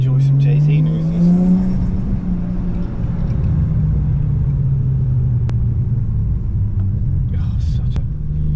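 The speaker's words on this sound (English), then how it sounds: "Oh, such a great noise, this V6." A V6 car engine revving between buildings, a loud, close, rumbling engine note that rises then settles into a steady throaty drone, with speech-like sounds over it.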